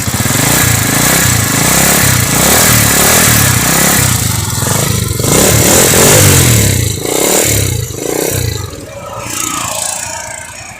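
A used motorcycle, started with its self-starter, idles loudly up close with a rapid, steady thumping beat and some clatter, then its note shifts and eases slightly toward the end.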